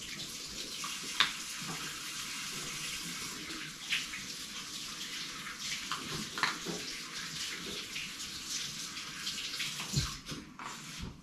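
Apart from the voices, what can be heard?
water running from tap while washing hands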